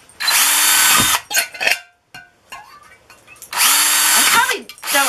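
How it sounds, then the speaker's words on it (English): A power drill bores holes into a metal mason jar canning lid in two loud whining bursts with a brief clink between, separated by a quieter pause. "Just drill as many holes in there as you want."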